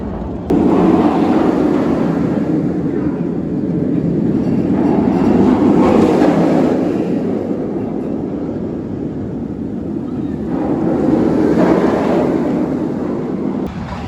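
A roller coaster train at Cedar Point amusement park rumbles and roars along its track, loud and continuous with rushing wind buffeting the microphone, swelling and easing in waves as the ride speeds through its course.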